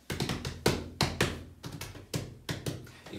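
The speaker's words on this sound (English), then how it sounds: "You can play on your chest." Hands drum on a chest in about ten close, dull thumps with an uneven, patterned rhythm of single hits and quick pairs; no voices.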